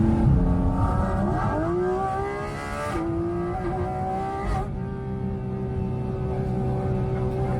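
A car engine revs up through rising and falling pitch sweeps, then settles into a steady, loud drone, close by and alone without any talk.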